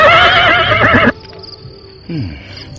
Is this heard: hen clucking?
no